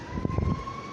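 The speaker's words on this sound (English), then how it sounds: "I hear all the fire trucks going." Fire truck sirens wail in the distance on a very windy day, a steady high tone held beneath gusty, low rumbling wind noise.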